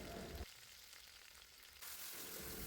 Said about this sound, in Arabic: وبسخن الزيت كويس جدا وبعد كده انزل بالصدق